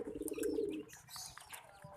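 A pet pigeon coos softly in a low, throaty pulse at the start, followed by faint chirps and rustling, quiet and alone without speech.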